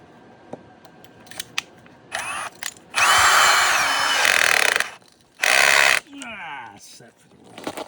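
A power drill whirs in a few bursts while weatherproofing a front door, one long sustained run and a shorter one, with clicks and handling noises between them.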